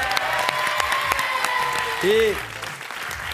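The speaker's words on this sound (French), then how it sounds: "on va vous applaudir bien fort." Studio audience of a French TV quiz show applauds in a steady wash of clapping, with a short spoken word and a voice over it near the end.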